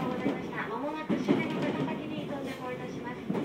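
A Shinetsu Line 211 series train's wheels rumble and clatter steadily on the rails near Takasaki, with faint voices murmuring underneath the continuous running noise.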